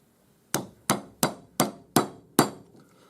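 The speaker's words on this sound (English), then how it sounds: "just hammer it until it goes to the bottom" Six evenly spaced sharp hammer blows ring out on a small metal disc being shaped into a cup for earrings, each strike close and loud with a short metallic decay.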